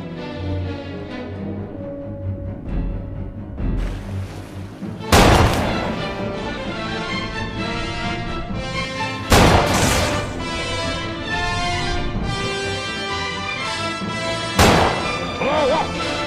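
A rifle shot detonates a compressed air tank in the 1975 shark film Jaws, a loud sharp crack and blast that recurs several times over tense orchestral music.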